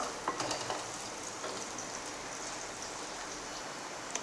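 Small shallots softening in a pan for a Kerala prawn curry, giving a soft, even sizzle with faint stirring scrapes, low in level and without speech.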